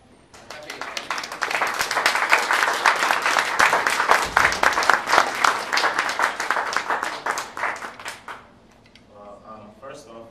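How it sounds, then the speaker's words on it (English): Sustained applause from an audience at a university MFA open mic literature reading, dense clapping rising quickly and holding steady for several seconds before thinning out, with a voice beginning to speak as it fades. "please give a good round of applause"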